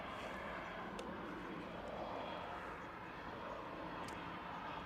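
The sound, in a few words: Eurowings jet at Manchester Airport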